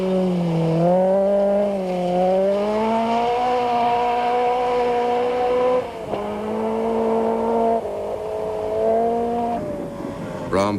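Volkswagen Golf rally car in a 1988 Class D rally, engine droning steadily with rising and falling pitch as it accelerates and shifts gears, loud and close, with a brief break midway and a sharp burst at the end.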